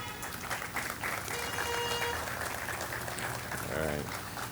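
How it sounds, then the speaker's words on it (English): Audience clapping at the opening of a new Metra commuter rail station in Harvey, Illinois, a continuous mid-level patter of hands with faint voices and tonal background sounds mixed in. "I want to give a big round of applause for their contribution to this"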